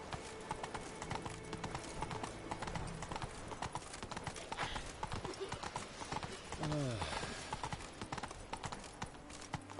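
Roach, a horse in The Witcher 3: Wild Hunt, gallops in rapid rhythmic hoofbeats under game music and effects, with a brief whinny partway through and a voice speaking over it.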